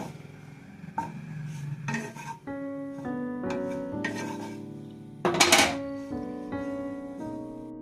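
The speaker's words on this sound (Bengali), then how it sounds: "পাউরুটিগুলো আমি কড়াই টুকরোগুলো নেড়ে নিয়েছি একটু মরমরে করে নেওয়ার জন্য" Bread pieces are stirred in a wok (kadai) to crisp them, with intermittent rasping scrapes and clinks of the utensil against the pan over steady background music.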